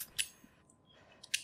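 Scissors snip through cloth in The Last of Us Part II, with two or three short, crisp cuts separated by quiet gaps.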